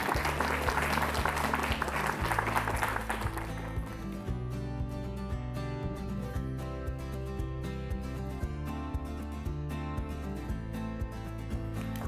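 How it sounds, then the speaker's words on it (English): Audience applause fills the hall at a debating competition final, dense and steady for about four seconds, then gives way to music with no talking. "Please, special round of applause."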